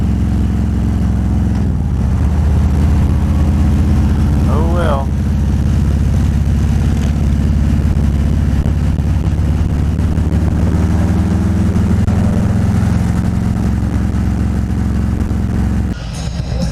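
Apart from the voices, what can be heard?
car driving in stop-and-go traffic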